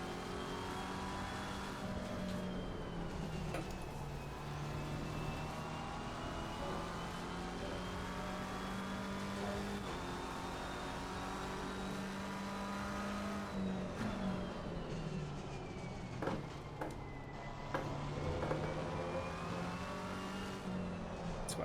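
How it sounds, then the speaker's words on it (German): A race car engine in the Assetto Corsa Competizione racing game drones continuously for about twenty seconds, its pitch rising and dipping with throttle and gear changes, steady and close throughout. "Ich hab keinen zu lauten Motorsound, nicht dass du nichts anderes mehr verstehst."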